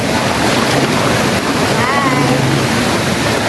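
Waterfall at the end of a river-like dining area at Villa Escudero resort, heard as a loud, constant close-up roar of rushing water with no breaks.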